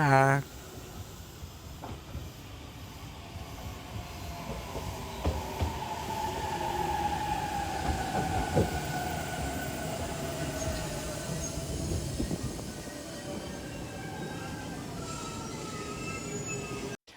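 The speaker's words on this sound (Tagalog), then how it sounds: "Wait tayo ng tren papunta at pabalik ng Hakata Station. Ayan na sila." A train rumbles into Hakata Station in Fukuoka, Japan, with a steady roar, its wheels squealing high and long as it slows, and voices faint in the background.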